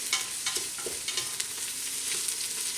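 Onions, peppers, bacon and garlic fry steadily in a pot, with a constant sizzle broken by soft scraping strokes as the mixture is stirred, close and moderately loud with no talking.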